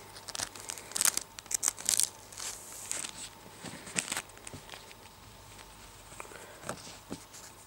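Thin plastic packet that held a protective screen film for an iPhone 5 being handled, giving a series of close, light crinkles and crackles in irregular bursts with no talk.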